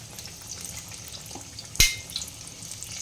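Battered capsicum chops fry in hot oil with a low, steady sizzle, broken once midway by a sharp, loud spatter pop, then a few softer crackles.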